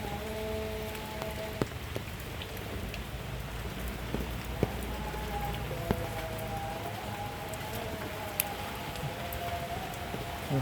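Light drizzle patters softly in the countryside, a faint steady hiss with scattered drips, while a distant tonal hum rises and falls in the background.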